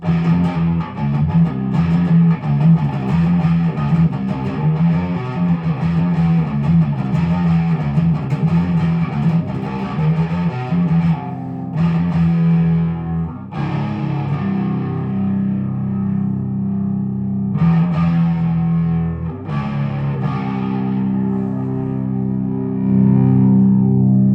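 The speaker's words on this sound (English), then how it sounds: "This is the lead channel, which actually sounds a little bit better, but the distortion's more cranked up." A heavily distorted electric guitar through an amp's cranked lead channel plays loud sustained chords and riffs, with brief pauses where the fuzzy tone cuts out and rings back in.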